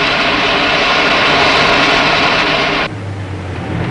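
A car driven on a test track at a 1968 car factory: loud, steady engine and road roar throughout, shifting to a lower, quieter hum near the end.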